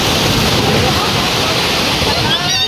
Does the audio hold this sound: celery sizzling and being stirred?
no